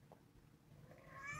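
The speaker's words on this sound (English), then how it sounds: "That's my cat." A pet cat gives a short meow near the end of a brief, quiet moment outdoors by a house, rising faintly above low background noise.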